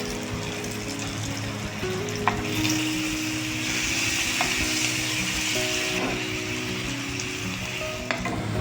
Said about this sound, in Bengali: শ্যালো ফ্রাই করে নাও।